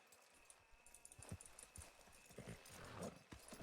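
Horses walking on hard ground, with irregular hoof clip-clops at moderate distance mixed with harness rattle and faint ambient noise.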